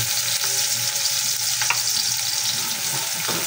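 Garlic, onion and ginger sauté in a hot pan for a pork dish, giving a steady, close sizzle of frying with light stirring scrapes throughout and no talk.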